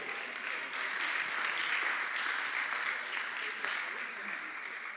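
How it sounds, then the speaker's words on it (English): A round of applause breaks out at a commission meeting, a steady clapping from a crowd in a room that holds at an even level for several seconds. "Round of applause."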